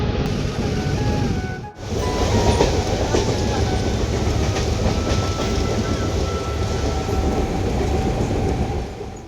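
A crowded morning commuter train near Kalwa–Mumbra rumbles along steadily with loud continuous rolling roar and faint rhythmic clatter of the wheels, heard from inside the carriage.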